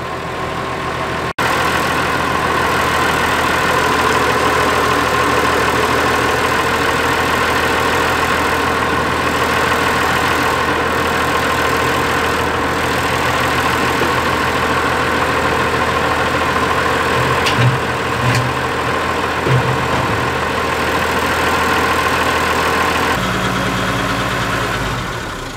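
A Massey Ferguson tractor engine idles steadily and loudly for the whole stretch, a constant near mechanical drone with little variation.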